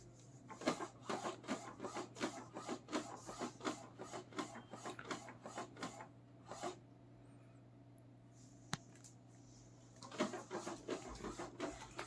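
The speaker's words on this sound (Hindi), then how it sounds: "ये अभी प्रिंट स्टार्ट हुआ है" An Epson L1800 DTF roll-to-roll printer runs a print job, with an added external pipe rubbing as it moves. Rhythmic rasping passes repeat steadily, pause for a few seconds, then resume, fairly quiet and close.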